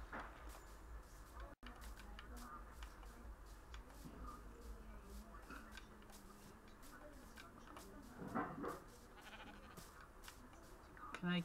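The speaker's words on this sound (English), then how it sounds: "Can I kill this sheep?" Sheep bleating in the Minecraft video game, a few short game bleats scattered through steady background game sound, with a person talking over them throughout.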